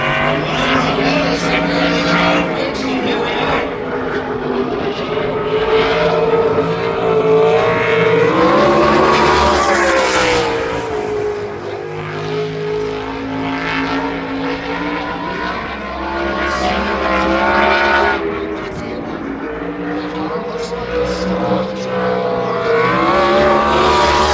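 Winged sprint cars lapping during qualifying at Berlin Raceway, a loud continuous engine roar that swells and fades as cars pass, with a track announcer's voice running underneath.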